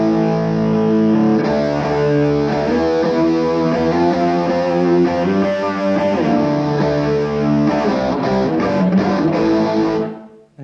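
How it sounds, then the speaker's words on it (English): An electric guitar plays sustained power-chord fifths very loud, thick and ringing with a slightly driven edge, several chords held then cut off at the end, no talking. "It sounds like a loud guitar"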